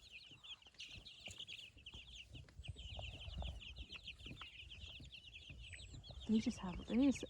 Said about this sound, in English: They're much more quiet than the meat chickens. Just little tiny peeps.